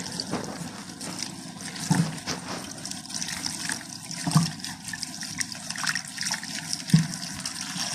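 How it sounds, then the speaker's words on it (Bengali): Peeled vegetables being washed in a basin, with gentle splashing and trickling water broken by a few louder sloshes, quiet and close with no talk. "এবার এটাকে ভালো মতো আবার ধুয়ে নিব, যাতে কষটা না থেকে যায়"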